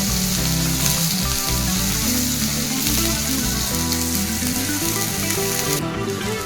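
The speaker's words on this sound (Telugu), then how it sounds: "సో ఇప్పుడు మొత్తం అన్నీ మంచిగా ఫ్రై చేసుకోవాలి ఒక 1 minute వరకు." Carrot and onion fry in a pan for a sago upma, a loud, dense, unbroken sizzle filling the whole stretch with no voices.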